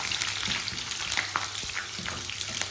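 Mustard seeds, fenugreek and curry leaves frying in hot oil for a dried-fish kulambu, a close, continuous crackling sizzle with small pops and stirring scrapes, no voices.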